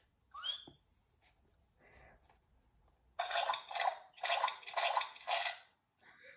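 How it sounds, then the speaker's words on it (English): Water splashes in a series of sloshing bursts, fairly close, after a few scattered squeaks and small sounds. "Everyone is having a wonderful, noisy time jumping and splashing."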